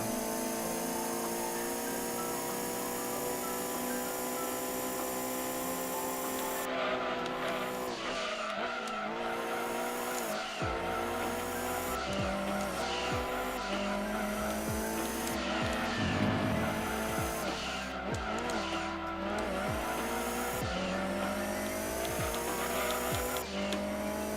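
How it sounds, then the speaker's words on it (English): Mercedes and BMW race cars battle in Gran Turismo 2, their engines roaring steadily and rising through gear shifts, with repeated tire squeals and skids throughout. "Mercedes and the BMW battling it out."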